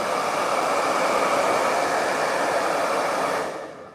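A hair dryer blows with a steady, loud broadband whoosh, then winds down as it switches off near the end.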